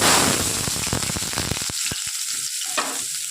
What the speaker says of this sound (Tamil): இப்போ சோம்பு பொறிஞ்சிருச்சு